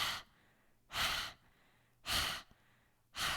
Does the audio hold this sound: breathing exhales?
yes